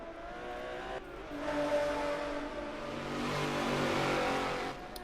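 GT4 race cars, including a Mercedes-AMG, at Suzuka circuit during a chaotic race start, with a steady loud engine drone that swells and fades as cars pass, heard alone without talk.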